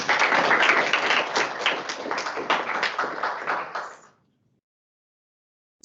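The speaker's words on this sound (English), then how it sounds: "I'll give them a round of applause." A dense burst of audience clapping at a university conference celebration of excellence, steady and fairly loud for about four seconds before stopping abruptly into silence.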